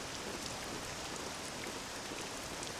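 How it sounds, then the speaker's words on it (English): Steady rain pours down in Dragon Quest VII Reimagined, a dense, even hiss of drops spreading across the whole scene without pause, with no voices over it. "This accursed rain will chill ye to the bone."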